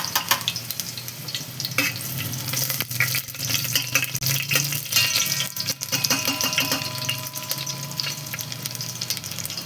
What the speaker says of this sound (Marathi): थोडेसे सोनेरी होईपर्यंत तळूया.